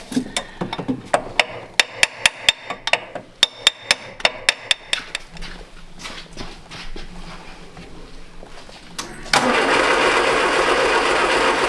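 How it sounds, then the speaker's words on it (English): Sharp metallic taps on the starter motor of a 1967 MGB GT, a quick irregular series of loud knocks, then the starter cranking steadily near the end. "We're gonna tap the starter."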